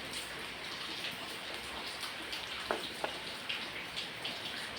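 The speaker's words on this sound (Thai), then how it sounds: "ฝนตกป๊อบแปะป๊อบแปะ ฝนตกรินรินนะครับ" Light rain patters steadily with soft scattered drops and a couple of sharper taps, a gentle continuous wash with no voices.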